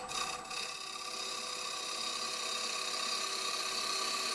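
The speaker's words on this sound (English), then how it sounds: "I'm going to do a light cut." Steady, even rasping of a turning tool taking a light cut on a spinning wooden bowl, a faint continuous scraping hiss with no pauses and no voices.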